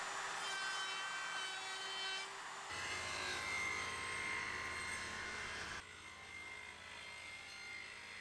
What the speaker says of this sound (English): a bunch of furring strips that I need to use the router to cut in